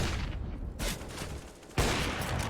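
Counter-Strike gunfire on the Vertigo map during a pro match, with bursts of rapid shots and a sharp loud report near the end, all at steady close range with no talk.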